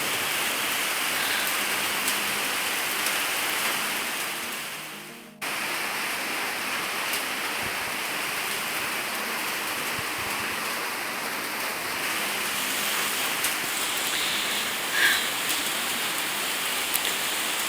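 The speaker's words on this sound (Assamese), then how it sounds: "বাৰু বৰষুণ একদম ধাৰাসাৰ বৰষুণ দেখুৱাই আছোঁ" A heavy downpour falls outside, a dense, steady roar of rain that briefly thins near the start before returning full and constant, with no voices.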